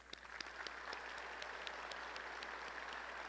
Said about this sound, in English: Please give the College of Engineering leadership and our guests your applause.